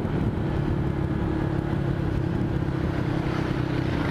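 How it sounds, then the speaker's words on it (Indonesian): A motorcycle fitted with a racing exhaust runs as a steady, low, even drone with a constant rumble and no revving peaks; no one speaks. "Bener ini pakai knalpot racing, tapi adem."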